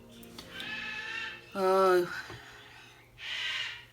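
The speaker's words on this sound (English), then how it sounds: "Again, I apologize for the screaming bird." A pet bird screams in loud, harmonic bursts, one long call in the middle and shorter high squawks before and after, while someone in a room utters a brief word.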